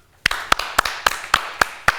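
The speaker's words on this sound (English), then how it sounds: "clap if you want to be technically excellent" Seven evenly spaced sharp claps land in a steady rhythm, close and crisp, with no talking.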